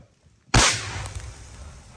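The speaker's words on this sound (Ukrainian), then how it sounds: "Постріл!" A single sharp, loud gunshot from a machine gun position on the Donetsk front cracks out, followed by a long rumbling echo that slowly fades.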